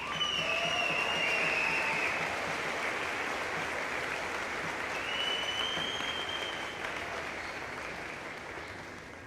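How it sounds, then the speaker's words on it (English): Audience at a college graduation ceremony applauds steadily and loudly for the full stretch, a dense wash of many hands clapping, with a few faint whistles or cheers rising above it, easing slightly toward the end. "Can we give them a huge round of applause?"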